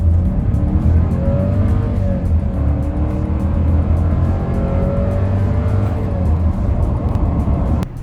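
A Volkswagen Virtus Highline 200 TSI accelerates hard, its engine a loud, continuous roar with whining tones that climb through the revs under road and wind noise. No one talks.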